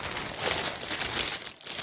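Clear plastic bag holding an Amazon wig being opened, giving loud, close crinkling and rustling that runs almost continuously, then briefly drops away near the end.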